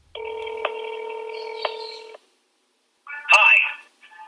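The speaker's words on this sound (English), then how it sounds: "if you called Murray, it would go to his voicemail" A telephone call placed by keypad: a steady two-tone dialing buzz with two brief clicks runs about two seconds, then after a short gap a ring-through tone and connection sound as the call reaches voicemail.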